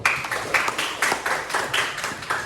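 Applause breaks out for a student in an eighth-grade Indonesian-language class, a run of quick, irregular claps from a small group of classmates, fairly close and steady for a couple of seconds with no talking over it.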